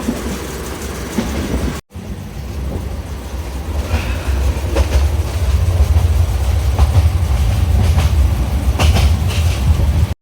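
Steady rumble of the Chattogram Mail passenger train running at night, continuous low-frequency rolling with faint rhythmic wheel clatter and occasional rattles, heard from inside a sleeper cabin, loud and constant after a brief cut.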